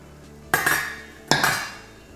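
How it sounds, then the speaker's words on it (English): Two bright metallic clanks of a lid being lifted and handled on a pot of collard beans on a stovetop, each clank ringing and fading, close and fairly loud in a quiet kitchen. "We are going to remove the lid"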